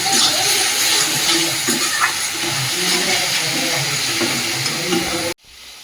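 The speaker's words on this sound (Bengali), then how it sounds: "আদা রসুন দিয়ে ভালো করে কষিয়ে নিয়েছি" Goat meat sizzles loudly in a new wok with ginger and garlic, a steady close frying hiss that stops abruptly near the end.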